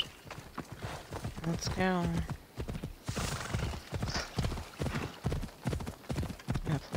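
Horse hooves clop rapidly in Assassin's Creed Odyssey, a steady galloping rhythm with a sharp whinny near the start, while a player talks briefly over it.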